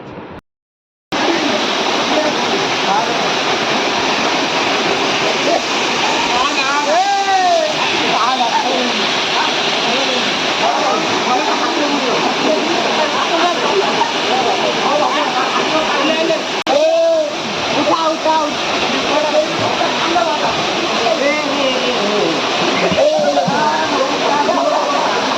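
The Gundicha Khai waterfall near Kendujhar roars in a steady, loud, broadband rush that fills the whole stretch, with brief voices rising faintly over the water now and then.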